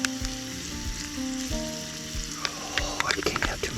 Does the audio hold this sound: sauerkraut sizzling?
yes